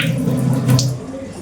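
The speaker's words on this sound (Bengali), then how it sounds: "সেই জন্য একটু জলটা ফেলে দিই।" Water drains off soaked chana dal in a steady, close splashing pour that runs for a moment and then eases off.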